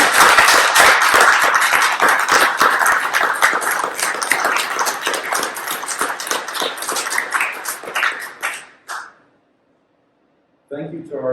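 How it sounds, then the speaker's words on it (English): Dense audience applause at a symphonic wind ensemble concert, loud and sustained for about eight seconds before tapering off into silence, then a voice begins speaking. "Let's give a big round of applause for them"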